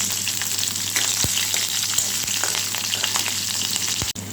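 Whole spices (fenugreek, dried red chillies, cardamom, cinnamon, bay leaf) and green chillies frying in oil in a wok of potatoes, a loud, continuous close sizzle with a few light stirring taps, no speech.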